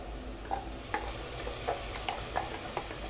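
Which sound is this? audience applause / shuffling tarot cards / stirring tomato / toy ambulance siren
stirring tomato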